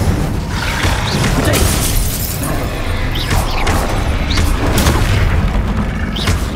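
Fiery bursts and booming impacts from the Incendio fire spell in Hogwarts Legacy, several loud whooshing blasts in quick succession over a busy combat backdrop, with a voice briefly heard among them.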